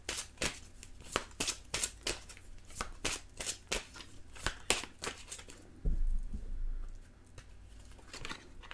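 Tarot cards are shuffled and drawn by hand in a burst of crisp riffling slaps and flicks, about fifteen quick strokes over six seconds, then a softer dull thump and quiet rustle, close and moderately loud with no talk.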